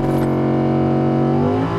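An Audi R8 Spyder engine held at high revs in launch control, a loud, steady droning roar that rises slightly in pitch near the end, with no voices.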